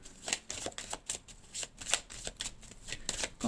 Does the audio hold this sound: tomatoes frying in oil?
no